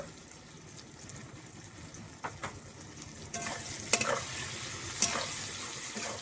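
Fish curry made with Nile tilapia stirred in a pan after salt, turmeric and chilli powder go in, a soft steady sizzle with a few sharper scrapes and clinks toward the end.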